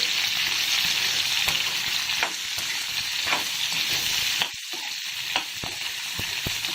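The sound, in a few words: cut okra frying in hot oil with cumin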